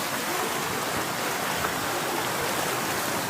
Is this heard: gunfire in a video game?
no